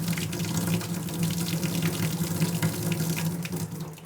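Hot water runs steadily from a household tap to purge air from the lines after a heat pump water heater installation, a continuous splashing rush into a sink with no break throughout.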